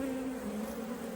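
Honey bees on frames of bees and brood give off a steady, close droning hum with a low pitched tone that holds without pause through the brief moment.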